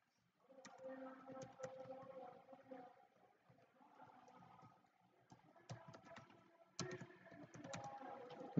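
Password being typed on a computer keyboard: faint, quiet bursts of key clicks in short irregular runs with pauses between them, close by and without any voices.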